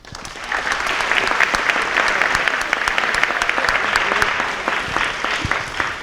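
Audience applause for athletes at a school signing day ceremony, steady dense clapping from a large crowd sustained for several seconds without a break.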